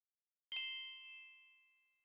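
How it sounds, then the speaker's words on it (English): A single bell ding, a bright metallic strike ringing out cleanly and fading over about a second, alone in silence. "Speak when you hear the bell."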